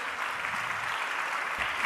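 A church congregation claps together in a brief burst of dense, even applause that fills the room at close range, with no pause or trailing off.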